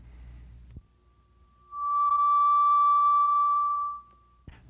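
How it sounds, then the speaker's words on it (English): A pure, steady electronic tone from a sine wave generator swells in, holds for about two seconds at one pitch, then fades out, alone apart from faint low background hum and a click at each end. "A sine wave generator produces one frequency only at any given setting of the dial."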